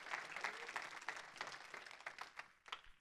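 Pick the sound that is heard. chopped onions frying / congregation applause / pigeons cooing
congregation applause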